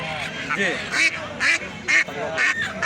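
Ducks for sale at a poultry market quack repeatedly in short loud bursts close by, over people talking and bargaining.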